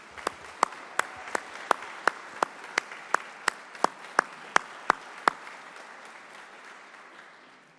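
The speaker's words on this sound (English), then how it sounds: "Stand up and we'll give you a round of applause." Sharp, evenly spaced claps ring out about twice a second, crisp and echoing in a large state legislature chamber, fading as the applause winds down.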